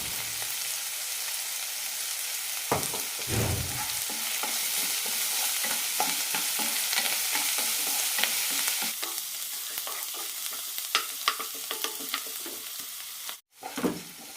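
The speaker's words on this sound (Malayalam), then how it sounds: "സവാള വഴറ്റിയെടുക്കണം ഇതിലേക്ക് കുറച്ച് ഉപ്പ് കൂടി ഇടാം" Onions sautéed in a pan for a kurma curry, with salt added, a continuous close sizzle broken by repeated stirring scrapes and clatters, briefly cutting out near the end, with no voices.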